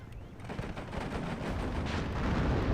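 Weapons fire striking a T-62 tank in the WARNO real-time strategy game, a heavy rumbling barrage of shots and impacts that builds steadily in loudness.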